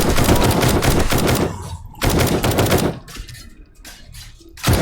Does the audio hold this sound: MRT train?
no